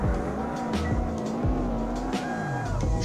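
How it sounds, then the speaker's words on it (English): A race car drifting in Assetto Corsa, a Chevy or WRX STI GT car: engine roaring steadily with pitch sweeping up and down through gear changes and a thin tire squeal riding above, close and continuous. "Ooh, mate, I think this is going to be a bit of a nice drift."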